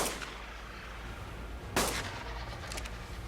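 Gunfire in ARK: Survival Evolved, a single sharp crack standing out midway over a low ambient bed, followed by fainter, quicker reports; moderately quiet overall.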